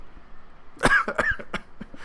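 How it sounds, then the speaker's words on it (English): A sick man coughs a few times in quick succession, close and moderately loud, a short burst of harsh coughs against a quiet room. "I'm still sick, I'm still coughing"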